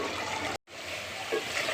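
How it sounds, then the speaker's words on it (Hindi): Water pours into a pan of potato and green onion curry in a continuous close trickling stream, with a brief gap in the flow and a few small splashes. "बस अब हम इसमें 1 कप पानी शामिल कर देंगे"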